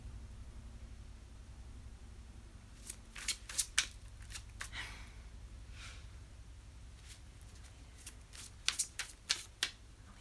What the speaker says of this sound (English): while I was shuffling the cards